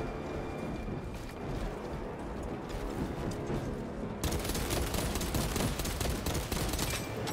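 Sustained gunfire from Space Marine 2, a dense rattle of automatic shots that swells into heavier, louder bursts partway through, with no voices over it.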